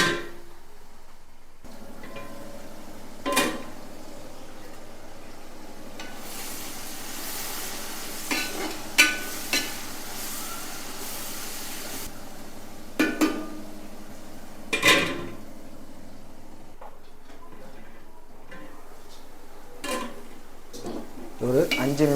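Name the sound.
onions sautéing in a pan for fish biryani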